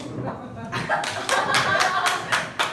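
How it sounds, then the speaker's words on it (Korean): Guests clapping at a child's first birthday party, several quick bursts of hand claps rising after a moment of murmuring room noise, with a host's voice and crowd chatter underneath. "박수 한번 주십시오."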